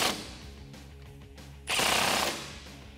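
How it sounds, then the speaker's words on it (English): A power tool with a T40 Torx socket tightens the bolts of a Barricade roof rack on a Jeep Wrangler JK 4-door, giving a rapid rattling impact buzz with a louder burst near the end. "Grab your T40 Torx socket and tighten these down."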